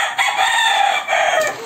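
A rooster crows in the background outside a home kitchen, one long drawn-out call, clear and fairly loud, with no talking over it.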